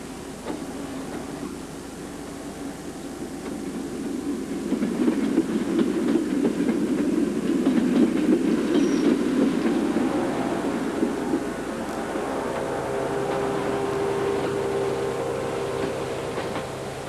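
A train runs past with a swelling rumble and rhythmic clatter of wheels on rails, loud in the middle and easing off toward the end.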